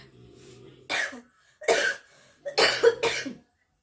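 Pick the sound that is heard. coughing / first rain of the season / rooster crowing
coughing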